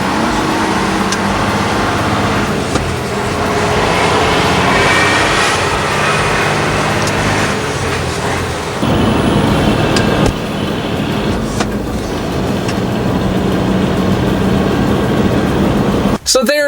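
A Volvo F16 truck engine runs loud and steady with a dense rumbling roar throughout, shifting character partway through as it pulls away, with a sharp knock at the very end.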